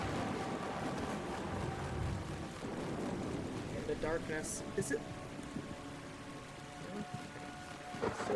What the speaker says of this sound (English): Yes, the loud rain.